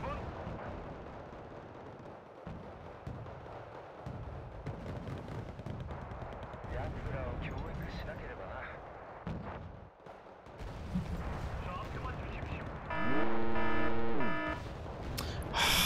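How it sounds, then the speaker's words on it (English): An M41 tank in Wargame: Red Dragon fires on the player amid a continuous battle, with repeated booming cannon shots and rumbling explosions layered with distant gunfire, and a voice talking over parts of it. "He's shooting at me with a fucking M41 that I can't spot."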